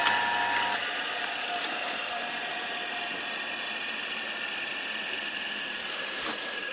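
Several electric motors run together on a test bench, a steady hum with faint high whine and a little mechanical rattle, constant throughout with no talking.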